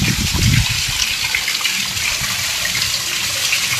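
Water gushes steadily from a source left running and wasted outdoors, a continuous close rushing splash that holds a loud, even level throughout with no other sounds standing out.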